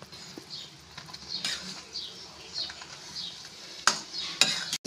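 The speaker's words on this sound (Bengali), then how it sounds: "এখন সমস্ত চুরমাটা এই চিনির রসের মধ্যে দিয়ে দেব।" Crushed churma stirred into sugar syrup in a kadai while making motichur laddu, soft scraping strokes and occasional sharp clinks of a utensil against the pan, fairly quiet and intermittent.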